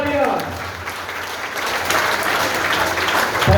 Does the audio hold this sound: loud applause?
yes